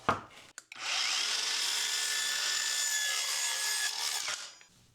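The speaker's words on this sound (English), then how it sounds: "Let's try a few cuts in some plywood with a thin wood veneer on both sides." A Hercules 4.5-inch saw cuts through plywood with a thin wood veneer on both sides, giving one loud, steady high-pitched whine lasting about four seconds, preceded by brief handling noise.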